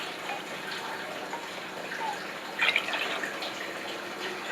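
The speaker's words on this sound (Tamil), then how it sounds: "1 டம்ளர் பால் சேர்த்துக்கணும்." A tumbler of milk poured into a cooking pot already holding water, giving a steady liquid splash that swells briefly near the middle, alone with no talk.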